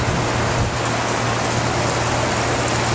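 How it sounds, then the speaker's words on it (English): Heavy rain pours down steadily on Lanai, Hawaii, a dense, unbroken hiss of falling water with no pauses, loud and close throughout. "it is raining cats and dogs in Hawaii, Lanai."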